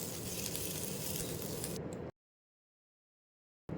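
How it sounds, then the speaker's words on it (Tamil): Steady crackling sizzle of sliced onion and curry leaves sautéing in hot oil, fairly loud and continuous for about two seconds, then cutting to silence. "நீளமாக நறுக்கின ஒரு பெரிய வெங்காயம், கொஞ்சமாக கருவேப்பிலை இலை சேர்த்து வதக்கிக்கலாம்."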